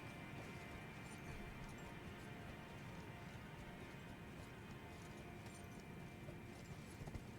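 Hooves of the spectral steed Torrent in Elden Ring clip-clop at a gallop, a fast steady beat under dense constant game noise, fairly faint.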